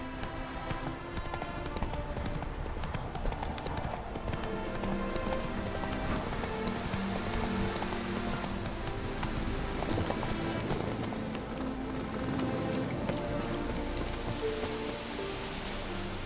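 Horse hooves clip-clopping at a steady galloping pace in The Witcher 3, a continuous rhythmic patter under rain-like ambience and background game music, with no talk.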